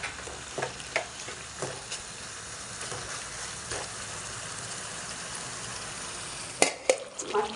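Chicken stirred in hot oil for a curry, a steady broadband sizzle with scattered scraping clicks of the spoon, growing into a few louder knocks near the end.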